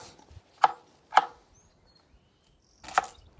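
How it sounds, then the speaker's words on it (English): An onion is chopped on a cutting board during camp cooking: three sharp, close knife knocks at an uneven pace, with nobody speaking. "So let's start chopping stuff down."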